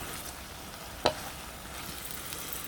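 Beef and lotus root stirred in sauce in a pan, a faint low bubbling sizzle with a single brief scrape of the utensil, quiet and without voices.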